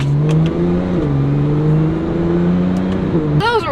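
A 2014 Porsche 911 Turbo pulls hard from a rolling start to about 60 mph. The engine note climbs steadily and loud with one gear change near the end, heard from inside the cabin.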